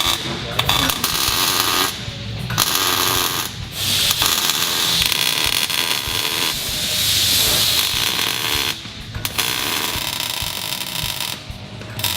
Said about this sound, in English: Verify that the track bar bracket is level and finish weld around the perimeter of the bracket.